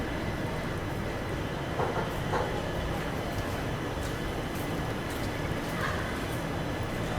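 Kakinada Town–Mysore express train on its first run, a steady rumbling roar of the moving train heard from inside, with faint clicks over the even noise.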